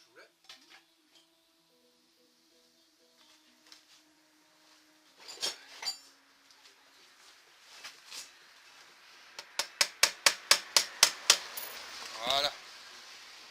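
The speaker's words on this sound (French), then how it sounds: "un petit marteau, ce serait plus simple" Small metal hammer tapping on a motorcycle chain during replacement, scattered light knocks building into a fast, even run of about a dozen sharp close taps, with bits of speech and clinking between.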